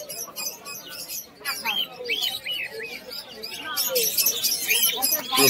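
Pigeons at a village bird market give repeated chirps and short calls close by, heard over a busy background of crowd murmur and talk.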